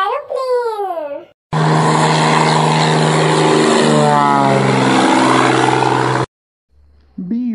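A droning aeroplane engine, roaring steadily for about five seconds with a rising and then sliding pitch, sits between bursts of a sing-song voice chanting the alphabet.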